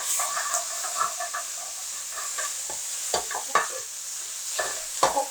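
Vinegar hitting a hot pan of garlic and cherry peppers for pork chops, a steady close hiss of steam and sizzle with scattered crackles and sharp pops, without talk.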